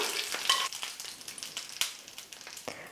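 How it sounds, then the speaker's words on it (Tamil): A tempering of spices sizzles as it is poured into onion chutney, giving a short crackling hiss with a few sharp spits that fade quickly, no one talking. "இப்போ தாளிச்சிருக்கிற இந்த தாளிப்பை வந்து சட்னியில் சேர்த்துக்கலாம்"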